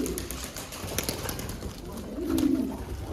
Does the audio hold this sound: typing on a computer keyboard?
no